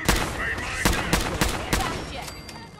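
Rapid gunfire in Fallout 4 during a fight with a gunner, with several sharp loud shots in quick succession over a busy game background.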